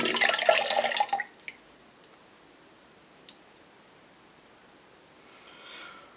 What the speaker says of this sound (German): Danach tut man das heiße Wasser weg.